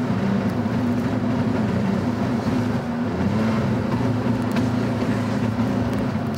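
A 30-year-old Porsche engine runs with a steady, loud, low rumbling drone and only slight swells, heard close with no voices.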